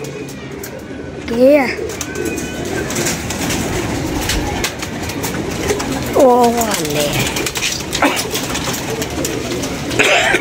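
Pigeons cooing on a rooftop, a few short warbling coos rising out of steady outdoor noise, near and moderately loud, while someone talks over them.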